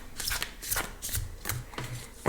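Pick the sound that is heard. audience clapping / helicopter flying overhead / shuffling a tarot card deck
shuffling a tarot card deck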